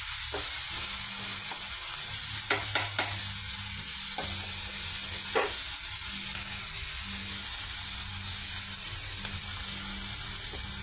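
Large onion pieces fry steadily in a pan, giving a continuous close sizzle with a few sharp clicks of a spoon stirring against the metal.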